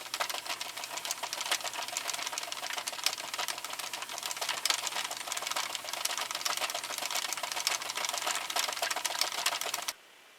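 A Sentro plastic knitting machine is hand-cranked in a fast, even clatter of needle clicks that continues nonstop for about ten seconds and then stops abruptly.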